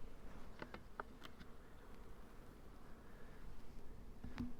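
Honey bees in a medium-sized hive with four or five frames of bees, a steady low hum of buzzing wings throughout with a few brief knocks and clicks near the hive.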